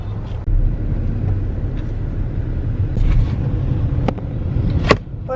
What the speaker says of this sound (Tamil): செம்ம டிராஃபிக் ஸ்டார்ட்.